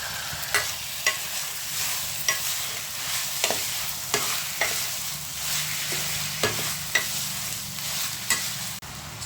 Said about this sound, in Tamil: சிக்கன் நல்லா வதக்கிட்டேன்.